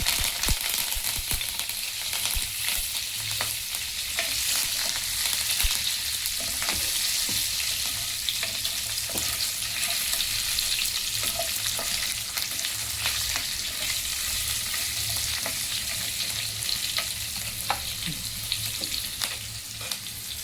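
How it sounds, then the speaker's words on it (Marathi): Green chillies and curry leaves sizzling in hot oil with spluttering mustard seeds, a loud continuous hiss with scattered crackles and pops, close and unbroken throughout, no voices. "मोहरी छान तडतडल्यानंतर आपण त्यामध्ये टाकून घेणार आहोत हिरव्या मिरच्या."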